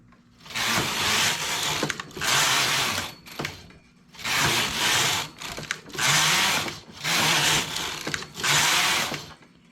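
Machine knitting of a flared blouse, the carriage swept back and forth across the rows in repeated bursts of whirring rattle with short pauses between passes, close and clear with no voices.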